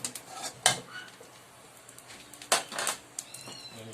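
Minced garlic drops into hot oil in a pan with two sharp clatters of a utensil on metal, followed by a soft sizzle and light scraping, near and fairly quiet, with no talking.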